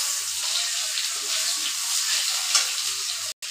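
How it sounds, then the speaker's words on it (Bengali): Potatoes fry with cumin seeds in a pan, giving a continuous bright, hissing sizzle that holds steady and close, cut off by a brief dropout near the end. "পুরনে জিরা দিলাম, আলুগুলা ভালো করে সাতলাই লমু।"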